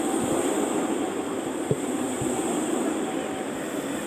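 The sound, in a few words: Prague T3 tram 5572 passing on rails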